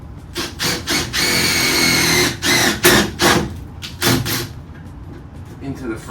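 A power drill drives self-drilling screws into the metal frame of a 2013 gas EZGO golf cart to fit mirrors, several loud whirring bursts with short pauses between, fading to quieter handling noise at the end.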